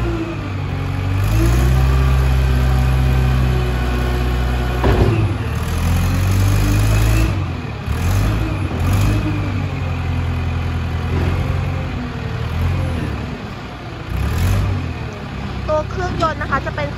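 Komatsu 507 wheel loader, an imported used machine with a Komatsu engine, running steadily with a deep low rumble and occasional revving throughout, close and loud, with someone speaking over it.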